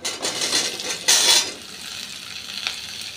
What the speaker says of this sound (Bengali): আলুগুলোকে একটু ভালো করে ভেজে নেব।